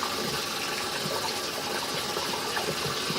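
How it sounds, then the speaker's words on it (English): Steady rush of running tap water as a shaving brush is rinsed after a shave, continuous and close with no speech. "Let's rinse the brush."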